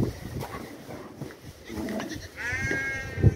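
Sheep on a farm bleat loudly nearby amid rustling and shuffling as the flock is moved along, with one clear wavering bleat standing out near the end.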